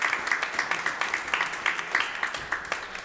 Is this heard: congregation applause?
yes